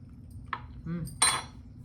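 Metal spoons clink against a bowl of homemade pimento cheese while tasting, two or three light, close taps with a quiet kitchen behind.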